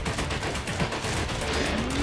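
Gunfire in Metal Gear Rising: Revengeance rattles as a continuous, dense barrage of rapid shots, loud and close, holding steady for a couple of seconds, with no talking.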